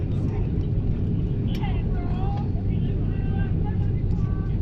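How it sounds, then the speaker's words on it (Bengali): An airplane taxiing and turning before takeoff at Shahjalal Airport gives a steady low engine rumble throughout, heard from inside with a person talking over it. "আমাদের বিমানটি এখন উড্ডয়ন হবে"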